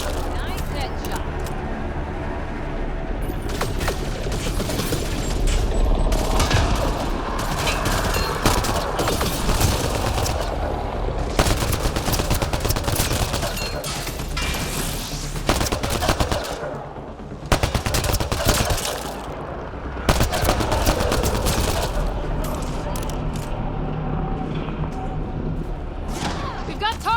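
Gunfire in the video game Mass Effect: Andromeda comes as repeated bursts and rapid volleys with thuds and impacts, mixed with game voices and a steady action soundtrack.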